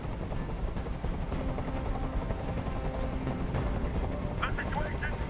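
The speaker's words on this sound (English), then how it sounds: "I can't stand that noise anymore. Tell that helicopter to get out of here." Helicopter rotor drone in the video game Detroit: Become Human, a steady loud rumble filling the whole stretch, with talk and scattered noises layered over it.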